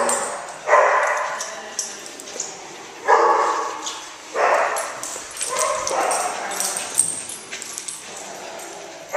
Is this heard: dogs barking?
yes